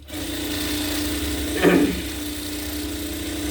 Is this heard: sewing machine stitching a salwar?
yes